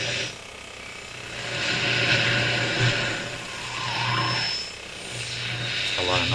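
AM radio static from a Viking console stereo: a steady, loud wash of hiss over a low hum that swells and recedes, with a brief warbling tuning whine near the end.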